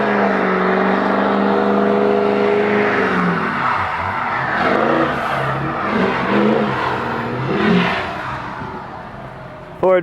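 A Ford car engine revs and roars steadily while driving through a heavy winter blizzard, with shifting engine pitch, tire and wind noise, loud and close throughout, and a sudden burst at the very end.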